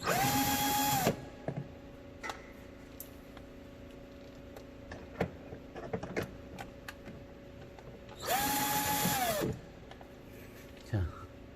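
A power tool removes 8 mm bolts from the headlight ballast of a BMW E90 in two loud whirring bursts, one at the start and one near the end, with quiet talking and small clicks between them.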